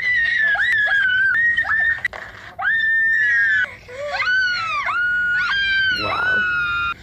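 Several people scream loudly in repeated high-pitched bursts, some long and wavering, with shrieks and laughter mixed in, in a bathroom setting.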